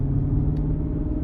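An Infiniti QX80 SUV with freshly changed transmission fluid rolls along in a steady, loud low engine and road rumble, heard alone and close from inside the cabin.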